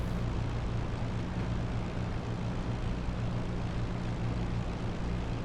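A de Havilland Mosquito's piston engine runs steadily in the DCS World flight simulator after start-up, with a loud, continuous propeller drone and a low, throbbing hum throughout and no talk.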